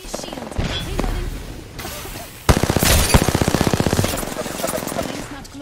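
Automatic weapon fire in an Apex Legends ranked match, sustained rapid bursts that start quietly, then a loud close-range stretch of fast, regular shots midway through, with game effects and a voice faintly underneath.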